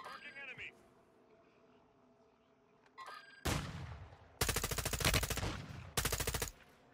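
Submachine gun fire in Call of Duty: Warzone, with quiet voice chat and game noise at first, then loud bursts of rapid automatic shots in the second half, two long sustained bursts dominating.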